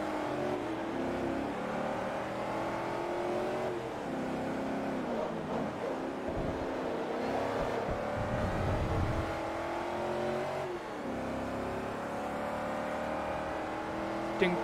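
Chevrolet Camaro racing engine in Forza Motorsport 3, roaring steadily at high revs throughout with rising and falling pitch through gear changes, loud and close, with no talking.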